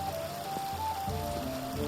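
Rain falls in Kingdom Come Deliverance, a soft, steady patter on surfaces forming a constant hiss with faint musical tones drifting over it and no talk.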